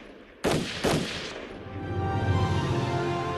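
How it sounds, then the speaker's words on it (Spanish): Gunshots marking the start of the 1927 Nanchang uprising in the city of Nanchang: two loud, sharp reports about half a second apart, followed by a fading rumble and sustained low, noisy din, with no voices. "Cuando acababan de tocar las 2 del 1 de agosto, sonaron los disparos dentro de Nanchang."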